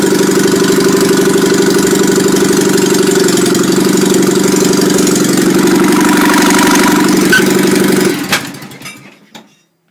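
A workshop engine idles low and steady with an even mechanical hum and faint knocking texture, running continuously before cutting out around eight seconds and fading to silence.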